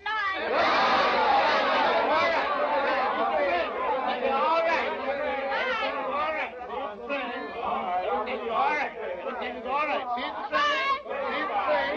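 A crowd of people hollers and shouts over one another in a 1932 film, a dense, loud babble of excited voices, chatter and yelps that continues throughout.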